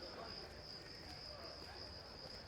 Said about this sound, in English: I don't know why we can hear crickets